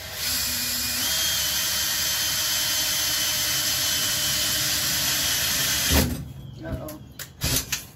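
A power drill whines steadily and loudly for several seconds while drilling a hole in an old refrigerator, then stops, followed by people talking.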